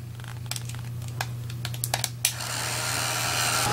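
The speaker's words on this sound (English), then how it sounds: "see if you'll be able to see how high I have my heat gun" A heat gun blows steadily on UTEE embossing powder, a hiss that swells into a loud broad whoosh toward the end, over a low hum and scattered light ticks and crackles.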